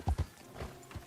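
A horse in the Red Dead Redemption video game walks with a few quiet, distinct clip-clop hoofbeats, two quick steps near the start, then a couple more spaced apart, fairly faint and with no talking.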